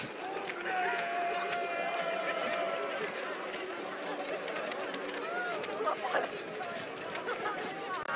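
Spectators at a ski jumping World Cup event in Kuopio, a distant outdoor crowd murmuring and chattering in a broad hubbub, with a commentator's voice speaking over it.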